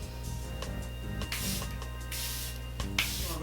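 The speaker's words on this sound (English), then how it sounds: "I'm going to use the Airbrush Flawless setting spray by Charlotte Tilbury" Several quick spritzes of Charlotte Tilbury Airbrush Flawless setting spray hiss in short bursts over steady background music.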